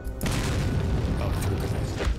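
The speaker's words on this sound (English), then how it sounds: "Oh, threw a grenade." A grenade explodes in the video game Resident Evil 4, a heavy booming blast that bursts in quickly and rumbles on for about two seconds.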